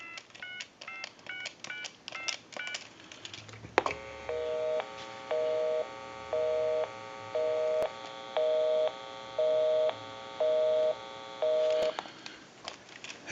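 A Radio Shack Trim Line 43-593 telephone plays a quick run of touch-tone dialing beeps, then a steady busy signal pulsing in even on-off bursts, clear and close.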